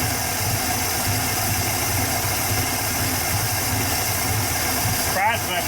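The engine of a Dodge pickup left sitting for 23 years, with the carburetor not set right, running at a steady rough idle, close and continuous with a faint uneven knock, and people talking nearby.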